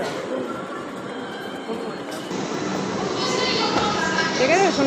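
A Kolkata metro train rumbles at a crowded station platform, a loud, steady rolling roar that builds toward the end with a high squealing tone, under a busy crowd and a voice.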